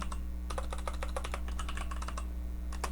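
Computer keyboard being typed on to enter a Linux install command for Samba, a quick run of close, crisp key clicks in short bursts over a low steady hum.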